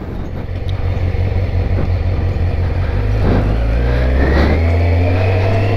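A 1999 Kawasaki ZZR 600 motorcycle engine runs loud and close, rumbling steadily before rising into revs as the bike pulls away and accelerates, with no voices over it.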